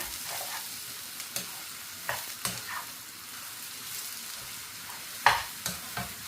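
Egg and vegetables for kothu puttu are stirred in a frying pan, a steady sizzle under intermittent scraping and tapping strokes of the utensil against the pan, close and moderately loud with no talk.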